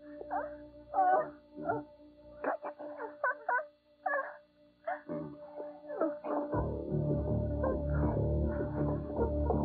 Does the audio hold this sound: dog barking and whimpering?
yes